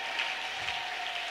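A church congregation claps together in a steady, dense wash of applause that holds evenly from start to finish, with no voices standing out above it.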